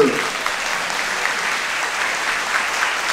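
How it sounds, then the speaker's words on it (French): An audience claps at a seniors' afternoon gathering, with loud sustained applause from many people filling the room and a brief voice at the very start. "Je voudrais qu'on l'applaudisse plus fort"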